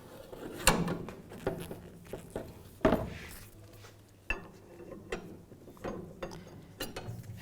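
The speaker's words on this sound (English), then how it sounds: "And now going counterclockwise, you can lower the spare tire" The spare tire hoist on a 2007-2013 Chevrolet Silverado is cranked to lower the tire, producing quiet, irregular metallic clicks and clanks with ratcheting taps close by.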